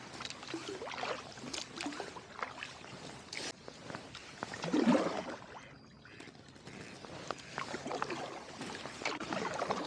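Kayak paddling on a river on Long Island on a calm day, soft water swishes and drips from the paddle strokes under faint wind and outdoor ambience, with a brief bird call near the middle.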